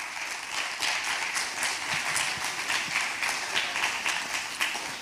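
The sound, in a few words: applause for the judges at a school competition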